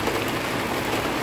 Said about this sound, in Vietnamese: Trời mưa rồi cả nhà ơi.